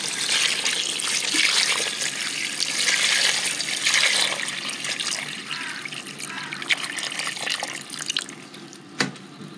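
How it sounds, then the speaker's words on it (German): Water runs from a tap or is poured over chopped rhubarb leaves in a pot, a steady close splashing trickle that thins toward the end, with a few knocks near the close. "und jetzt würde ich einfach alles mit"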